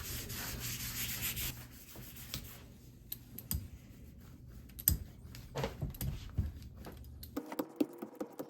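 A cloth rubs ink off a lithography stone with vegetable oil, making a close, dense scrubbing for a second or two, followed by scattered light scrapes, taps and clicks.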